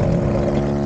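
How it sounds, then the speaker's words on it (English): Outboard motor on a small boat in a shallow lagoon, a steady loud engine drone running close by just before it is shut off. "he's turning off the engine"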